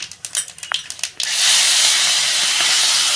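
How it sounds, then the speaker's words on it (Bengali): Panch phoron spices hit hot oil after a few faint clicks and taps, bursting into a loud, steady, close hiss of sizzling that carries on to the end. "আমি পাঁচফোড়ন দিয়ে দিচ্ছি।"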